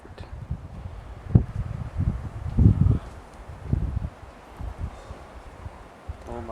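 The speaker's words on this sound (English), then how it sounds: "Oh, that wind." Wind gusting across a camcorder microphone on a long hike, producing uneven low buffeting and rustling in irregular surges. Some of the surges are fairly loud and close, and no one is talking.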